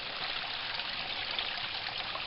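Stream water trickling beside the Appalachian Trail in Georgia, a soft, steady hiss of running water, fairly faint and uninterrupted, with no voices.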